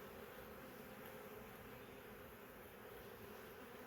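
Honeybees drone in a dense, steady buzz around an open hive, the hum continuous and fairly close with no voices over it.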